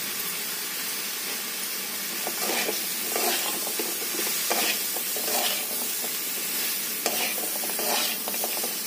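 Mixed vegetables stir-fried with fried chilli and spice paste in a pan, a steady close sizzle and hiss broken by repeated scraping and stirring strokes, with no voices over it.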